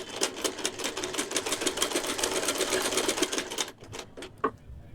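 A sewing machine stitches cotton fabric in a fast, even run of close, clicking needle strokes. It stops briefly, then a few separate stitches tap out near the end, with no talk.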